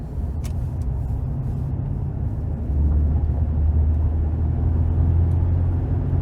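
A 2009 Chevrolet Silverado regular cab work truck with a V8 drives along, heard from inside as a steady low engine and road rumble that grows slightly heavier partway through, with no talking.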